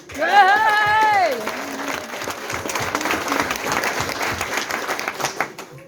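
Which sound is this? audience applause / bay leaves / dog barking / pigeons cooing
audience applause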